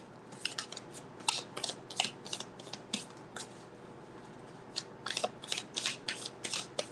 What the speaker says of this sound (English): I like to take my time and shuffle this a little bit.